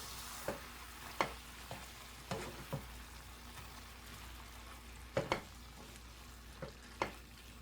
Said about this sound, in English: The veggies are cooking too much